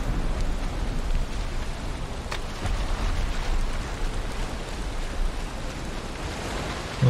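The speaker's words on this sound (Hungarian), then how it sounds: "itt elindult a nagy vihar, igen, itt ilyen dinamikus időjárás van a játékban" Heavy rainstorm with thunder in the video game Valheim, a dense, continuous hiss of falling rain that holds steady at moderate loudness throughout, with no voices.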